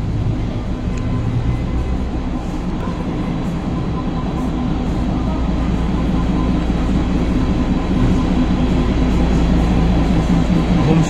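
The Darjeeling toy train stands at Ghum station, a loud, steady low rumble and drone of the rail engine and carriages that holds constant for the whole stretch without voices.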